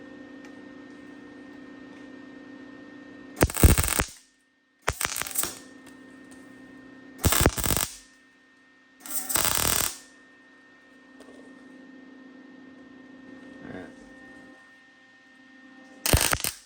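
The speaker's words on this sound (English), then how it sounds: "Let's weld it up." A cherry picker part clamped in a vise is welded in four or five separate bursts of harsh crackling, each about half a second to a second long, with a steady machine hum between them.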